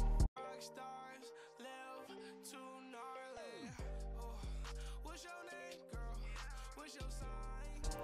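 A music beat with a vinyl tape stop effect, made in FL Studio, where the track's pitch and speed drag downward and slow to a halt, then the beat restarts, repeating several times.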